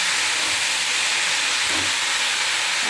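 Slit green chillies hitting hot mustard oil in a kadai, set for frying fish, give a steady, close, broadband hiss and sizzle that holds evenly throughout.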